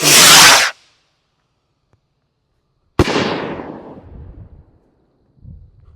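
A large firework rocket whooshes loudly upward for under a second, then after a brief silence bursts with a single sharp bang that crackles and rumbles away into the distance.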